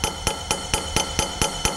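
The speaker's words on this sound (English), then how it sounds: "You can use a smaller hammer for that if you like." Steady, evenly spaced hammer blows on metal while working the action of a British side-by-side shotgun to tighten its bite, about eight sharp ringing taps in under two seconds, close and clear with no talk.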